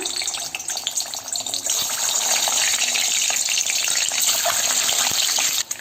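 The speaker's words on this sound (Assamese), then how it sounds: "এতিয়া মই ইয়াতে ভাজি ল'ম আগতীয়াকৈ আন্দাকেইটা" Boiled eggs being fried in oil in a pan for an egg curry, giving a loud, continuous crackling sizzle that stays dense and steady throughout, with no talk.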